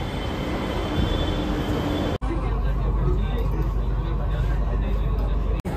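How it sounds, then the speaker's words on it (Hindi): A Delhi metro train arrives at Kirti Nagar station, a loud sustained rumble of wheels and rail noise with a high whine, filling the platform alongside crowd babble and nearby talking. "ये अपनी मेट्रो आएगी।"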